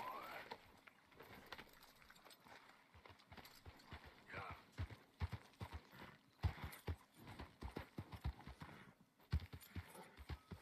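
Rhythmic clip-clop of horse hooves trotting in Red Dead Redemption 2, steady and close, with a voice speaking over it in places.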